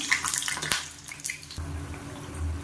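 Black urad dal vadas sizzle as they are slid into hot oil, a close, steady watery crackle with a few sharp splats and a denser bubbling wash in the second half.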